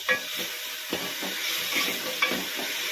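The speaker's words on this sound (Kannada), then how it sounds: "ಟೊಮೊಟೊ ಹಾಕೊಂಡು ಸ್ವಲ್ಪ ಫ್ರೈ ಮಾಡಿ" Tomato and onion fry together in a pan for a banana-stem gojju, giving a continuous loud sizzle. Regular scraping and stirring strokes of a spoon against the pan sound close by.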